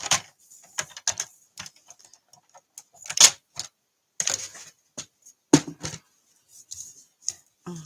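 Paper is cut square for a handmade card in a series of sharp, separate snips and clicks, some close and crisp, with quiet pauses between them.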